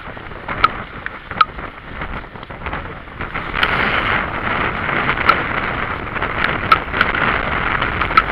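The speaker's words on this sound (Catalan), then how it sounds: "Em porta el vent" Steady wind roar buffets the microphone while riding downhill on an outdoor route, rising louder in the second half with a few sharp gusty bumps.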